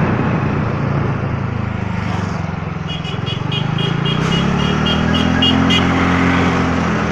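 A TVS Ntorq 125 XT scooter engine runs in sports mode, a steady loud motor drone with rising pitch as it accelerates, joined by faint ticking near the middle.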